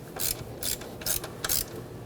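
A hand ratchet clicks in four quick bursts at close range while it snugs a bolt on the front brake caliper of a 2006-2010 Hyundai Sonata.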